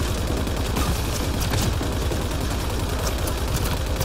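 Sustained automatic gunfire from the Mass Effect Andromeda multiplayer shooter, a dense, steady rattle of rapid shots that runs loud and unbroken throughout with no voices over it.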